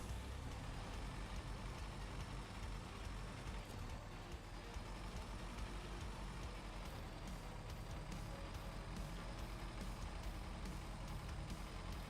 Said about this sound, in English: we're using a truck with no snow chains.